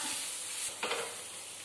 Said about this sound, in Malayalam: 1/4 ടീസ്പൂൺ മഞ്ഞൾപ്പൊടി, 1/4 ടീസ്പൂൺ ഗരം മസാല, 1/4 ടീസ്പൂൺ മുളക് പൊടി ഇട്ട് കൊടുത്ത് നന്നായി വഴറ്റുക